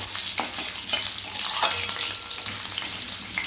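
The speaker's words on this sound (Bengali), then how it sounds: "আর সেই আলুটা কিন্তু দিয়ে দিলাম তেলের ভেতরে। এবার আলুটা আগে একটু ভেজে নেব।" Potatoes with a bay leaf fry in hot oil, giving a steady, close broadband sizzle that holds level throughout with small crackling bursts and no talking.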